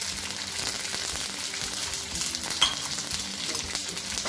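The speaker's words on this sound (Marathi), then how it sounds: "जोपर्यंत मिरच्या तेलामध्ये बुडत नाही तोपर्यंत हे तेल घालायचं आहे पूर्णपणे" Hot oil poured over green chillies for a chilli chutney hisses and sizzles steadily, a dense, constant frying crackle heard close up with a small clink partway through, and no talking.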